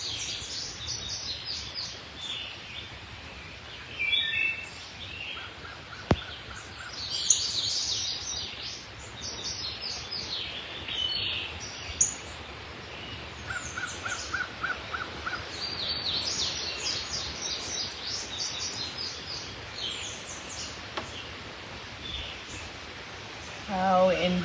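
Birds chirp and sing in repeated high bright phrases over a soft airy hush of morning breeze, and a calm voice speaks intermittently underneath.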